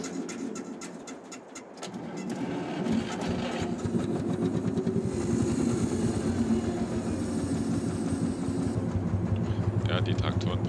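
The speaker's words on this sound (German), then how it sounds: "die Traktoren brauchen immer eine Weile, die alten, bis man die angesetzt hat" An old tractor engine in the Farming Simulator 22 game cranks and catches, then settles into a steady, loud mechanical chugging that runs continuously to the end.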